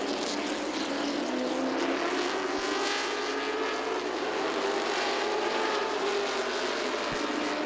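Late model race cars roar around the Southside Speedway oval in a dense, continuous engine drone whose pitch slowly climbs and swells as the pack passes, with no talk over it.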